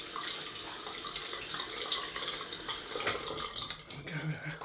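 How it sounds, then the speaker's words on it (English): A tap runs steadily while a straight razor is rinsed at a sink after a shave, water splashing and hissing continuously at moderate level with brief clinks near the end. "Right, rinse off."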